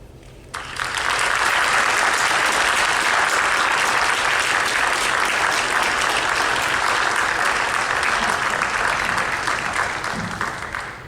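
A school hall-of-fame audience at Topeka High School applauds its inductees, the clapping bursting in sharply, then holding as a loud, full, sustained roar before easing slightly at the end.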